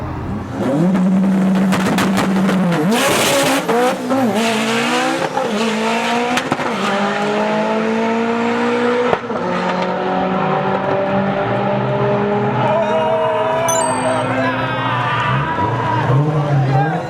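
An 1100 hp Subaru WRX on 46 psi with a 6466 turbo makes a drag racing pass, its engine revving hard through rising gear pulls with a loud, sustained roar and brief shifts between.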